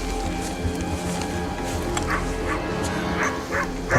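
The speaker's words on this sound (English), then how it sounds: "you can tell they're holding the dog because it keeps growling and stuff" A dog inside a house, with its low growls, yips and whimpers muffled behind walls amid steady background noise, no clear talk.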